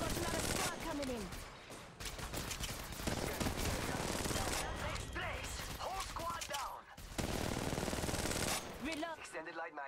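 Rapid automatic gunfire in the mobile shooter Apex Legends Mobile, with dense sustained bursts broken by brief pauses and sharp mechanical clicks, loud and close.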